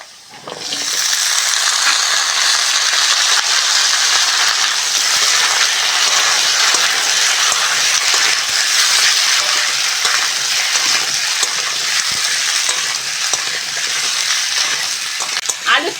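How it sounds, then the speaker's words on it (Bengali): Potatoes and green tomatoes frying in a pan, a loud, close, steady sizzle and hiss that runs almost unbroken after a quiet start. "সঙ্গে টমেটোটাও ভালো করে ভেজে নেব"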